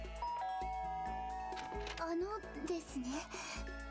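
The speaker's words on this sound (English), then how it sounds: "I guess I should press the doorbell." A chiming doorbell in the PC game Danganronpa: Trigger Happy Havoc rings in a few soft electronic tones over steady background music, with a player talking over it.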